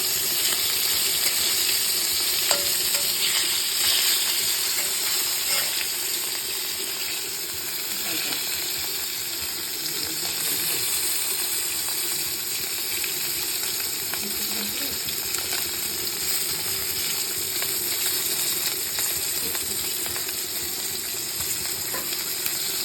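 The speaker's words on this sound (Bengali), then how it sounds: "মাথাটা একটু কড়া করে ভাজতে হবে, কারণ এটা মুগের ডালের মধ্যে দেওয়া হবে বলে" Hilsa fish heads frying crisp in hot oil in a pan, a steady loud sizzle and hiss with occasional crackles, going on without pause and with no voices.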